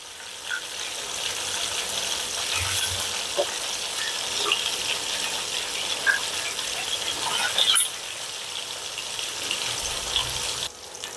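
Rohu fish frying in a pan gives off a steady, dense hiss of sizzling oil at close range, nearly unbroken throughout, with a couple of brief clatters as the pieces are handled.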